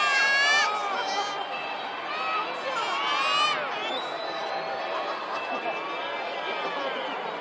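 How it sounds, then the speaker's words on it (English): A large crowd at a Chinese New Year night celebration in Chengdu, a dense chatter of voices with rising whoops and cheers, loudest near the start and around three seconds, under a mix of nearby talk. "The crowd begins to cheer up."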